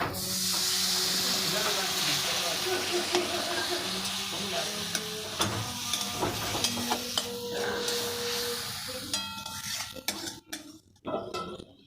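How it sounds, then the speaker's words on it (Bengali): Spices frying in oil hiss and sizzle steadily as a little water is splashed in for soybean mince, with stirring and utensil clinks against the pan, tapering off near the end. "মশলার থেকে তেল বের হয়ে গেছে এই যে এরপর আমি দিয়ে দিচ্ছি অল্প একটু জল"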